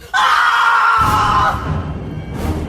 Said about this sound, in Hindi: उसकी एक चीख उस घर में बहुत जोर से गूंजी